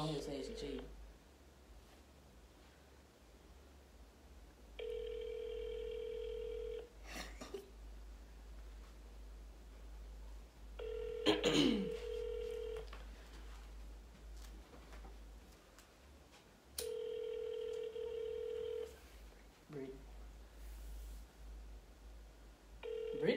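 A phone rings out during a prank call with three long ringback tones spaced several seconds apart. The line hums steadily underneath, and there are brief knocks and a throat-clearing sound between the rings.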